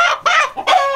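An Aseel rooster clucks in three short, loud, close bursts, with no other sound between them.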